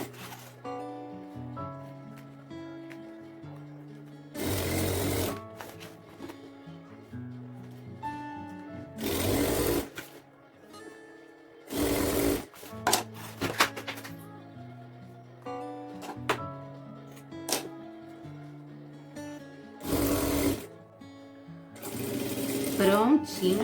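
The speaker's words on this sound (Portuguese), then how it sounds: "E o importante é costurar bem pela beiradinha" A sewing machine stitches along the edge of a plastic sheet for a dresser-top changing pad, running in several loud bursts separated by quieter pauses, with someone talking over parts of it.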